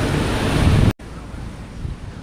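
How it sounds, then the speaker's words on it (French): A strong cold-front wind roars into the microphone on a Playa del Carmen beach with sargassum and churned-up waves. After an abrupt cut it drops to a softer, steady rush of surf and gusts. "c'est très venteux, sargasse, eau brouillée. Des belles vagues."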